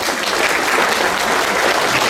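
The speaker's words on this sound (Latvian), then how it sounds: "Aplaus mums visiem!" Sustained applause from an audience at a children's Mother's Day concert with dance groups and orchestra, a dense steady clatter of many hands throughout.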